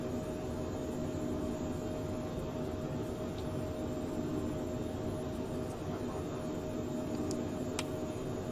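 Jet engine roar of a Phenom 100 business jet on its takeoff roll in Microsoft Flight Simulator, a steady loud broadband rumble and hiss with no talking.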